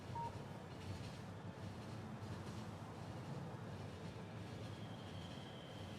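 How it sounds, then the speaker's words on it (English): A train running on solid fuel in the video game Factorio rumbles steadily with continuous rolling wheel noise and a faint high squeal partway through, and no other sounds break in. "Train's fast now with the solid fuel."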